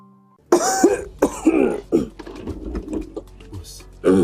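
A person coughs several times in quick, harsh bursts with some throat clearing, close by, with a brief voice at the end.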